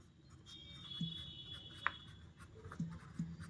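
Writing during a Class 8 maths lesson on square roots by long division: faint scratchy strokes of a pen or chalk come in short, irregular bursts, soft and close, with no talk.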